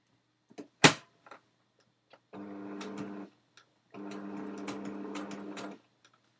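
Two sustained runs of a home sewing machine stitching through several layers of a fabric pen wrap with a long stitch length, each a steady buzzing drone of a second or so, close and clear after a sharp click and a few small taps.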